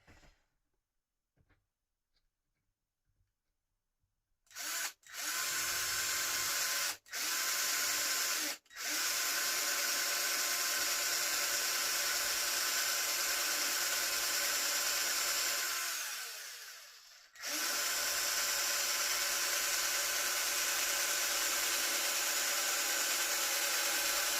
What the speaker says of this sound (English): That one's drilled, so I shall crack on and drill the rest of them